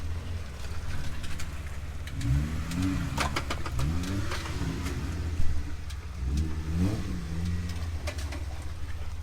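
A Jeep Gladiator's engine idles low on an off-road trail, then revs up and falls back in three separate bursts, its rising and falling whine clear over the steady rumble.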